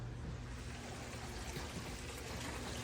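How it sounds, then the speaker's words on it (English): A small waterfall trickles inside a large iguana's enclosure, a faint, steady wash of running water continuing without pause. "See that waterfall?"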